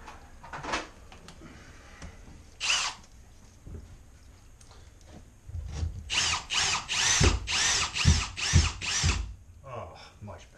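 A power drill drives wood screws while a toilet is being set, giving several short whirring bursts and then a longer run of rapid pulsing bursts near the end, with handling knocks in between.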